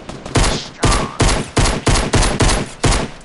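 Pistol fire in Fortnite, about nine loud, close shots in a fairly steady rapid rhythm, alone with no talking.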